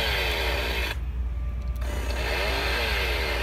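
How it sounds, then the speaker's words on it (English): A buzzing, high-pitched motor whir from a pull-activated Halloween toy chainsaw, loud and continuous, cutting out briefly for about a second before resuming. "And then the chainsaw will go off."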